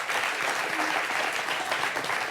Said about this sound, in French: Applaudissez pour cette dame.